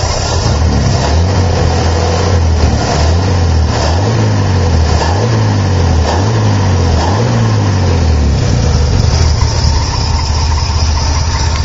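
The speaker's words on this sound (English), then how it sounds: "I think I might have it idling just a little bit low" A 1955 Chevy six-cylinder engine with dual carburetors, split manifold and dual exhaust idles low and loud up close, with a steady lumpy rumble and slight rhythmic surges throughout.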